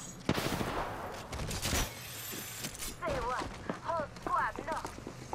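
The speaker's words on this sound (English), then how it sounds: "Listen up, I'm getting shot at." Gunfire crackles in a first-person shooter video game, a dense burst of shots up front followed by scattered reports and chirping game effects, with a voice talking over parts of it.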